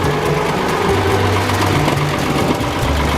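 Tractor engine running steadily at a low idle while the front bucket tilts up and lifts a hay bale, a loud continuous rumble with no pauses.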